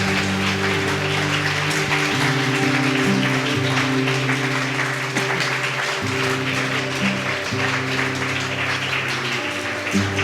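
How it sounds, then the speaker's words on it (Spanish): A church congregation claps steadily in a dense, sustained wash of applause, with music-like tones humming underneath throughout. "Dale un aplauso al Señor"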